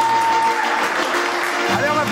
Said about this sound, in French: On m'applaudit, merci.